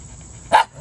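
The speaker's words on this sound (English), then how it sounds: "No barking, doggies" One short, sharp dog bark rings out close by after a moment of quiet room tone.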